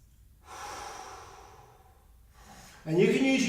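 Throat breathing in yoga, ujjayi-style, with two breathy hissing breaths close up, followed by a voice starting to speak at the end.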